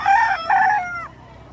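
A two-year-old bullstag rooster crows once, loud and close, in a single drawn-out call that breaks briefly before trailing off.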